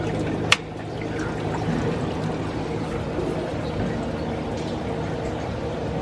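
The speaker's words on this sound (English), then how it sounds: "what happens is this compartment, water will be pushed into the main tank via the return pipes" An aquarium sump's return pump switches on with a sharp click, then pushes water through the return pipes into the main tank as a steady, close rushing flow.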